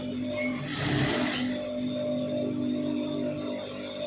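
A sewing machine stitches a side seam with a steady, droning motor hum, close and continuous, with a brief louder rustle of fabric near the start.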